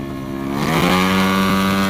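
A modified Vespa scooter engine revving up sharply, its pitch climbing within the first second into a loud, steady high-rev buzz with strong harmonic tone, close by and without speech.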